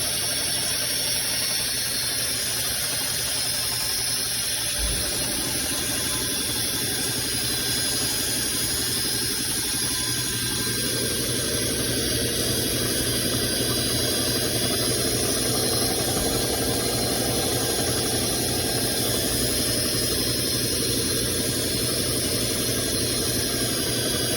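A Dynabrade 14360 pipe belt finisher runs steadily, a loud continuous whirring drone; midway the tone shifts and roughens as the belt engages the pipe surface, carrying on without any talk.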